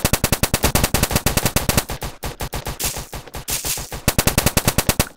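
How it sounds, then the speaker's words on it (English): Relentless automatic gunfire from a video game, fast rhythmic bursts of loud machine-gun shots with a brief ragged stretch in the middle, no voices over it. "Jeez, that gun does so much damage."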